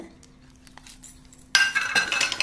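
A small metal kadai pan is handled, giving sharp metallic clinks and clatter that start abruptly after a quiet stretch and stay loud and close to the end.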